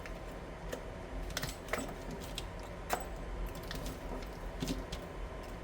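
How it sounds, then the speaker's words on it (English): A blade notches and cuts away the molded plastic round base of a cable mechanism, giving small, quiet, irregular clicks and snips at close range with no talking. "I will start notching out the plastic like so in the round base"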